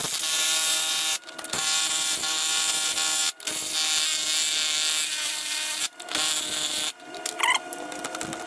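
A hand tool ratchets and whirs in steady bursts while a bolt is unscrewed on the rear suspension of an Audi S4 during a JHM lowering spring install, the mechanical buzz pausing briefly several times, with no talking.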